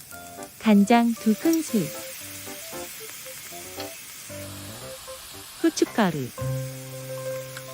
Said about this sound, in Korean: 마지막으로 버섯을 넣고 볶으세요.